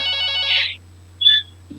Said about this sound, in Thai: โทรศัพท์ใหม่ดังดีท่อเนาะ